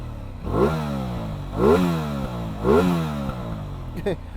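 A 2024 Aprilia Tuono 660 Factory sport motorcycle engine revs sharply three times at an even pace, each rev rising and falling back to a rumbling idle, followed by a brief final blip.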